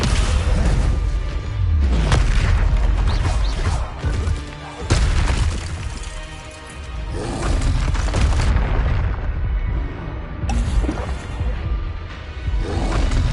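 Booming spell blasts from the Hogwarts Legacy video game burst one after another, dense and loud, with heavy low impacts layered over a continuous bed of game music and effects.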